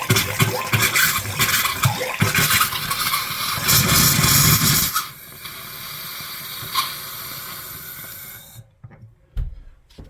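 Compressed air forces water out of an RV's open cold water tap during winterizing, a loud sustained gushing hiss that drops to a weaker sputter midway, then cuts off with a few faint knocks near the end.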